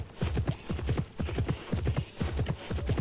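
Horse hooves clip-clopping at a steady trot in the video game Horsez, a loud close rhythmic run of paired hoofbeats continuing throughout with no talking.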